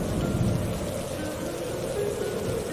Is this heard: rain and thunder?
yes